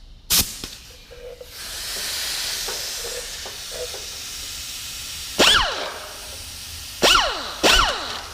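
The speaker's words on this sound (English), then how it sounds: "I had that compressor set to 175 psi where I had this plugged in." Compressed air hisses from an air compressor line set to 175 psi during carburetor work on a Kawasaki engine: a steady hiss that builds and holds for a few seconds, then several short, sharp blasts.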